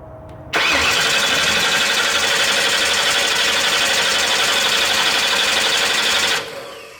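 A Ford Bronco engine cranking and catching for the first time in a decade, loud and close, running at a steady fast idle for about six seconds before cutting off abruptly.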